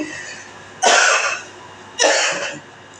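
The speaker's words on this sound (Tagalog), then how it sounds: "Sobra na ubo yan." Two loud, close coughs, about a second apart, each a sharp harsh burst trailing into a rough tail, with no talk around them.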